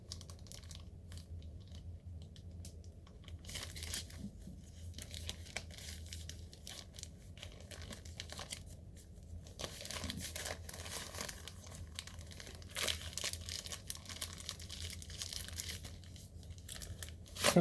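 A cactus pillow case is unboxed from a packaging bag, heard as close, steady plastic crinkling, crumpling and tearing over many seconds with no voice.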